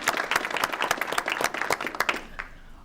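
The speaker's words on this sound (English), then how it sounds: "Oh, we would have to clap for you." An audience claps at a school board meeting, a dense patter of hands lasting a few seconds before tapering off near the end.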